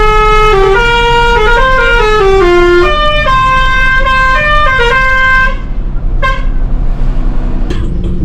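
Musical telolet horn on a coach bus, a loud melodic sequence of stepped, toy-like horn tones playing a tune, ending with a few short separate toots.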